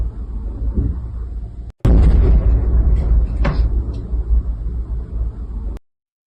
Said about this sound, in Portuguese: só dá para ouvir o som das explosões aqui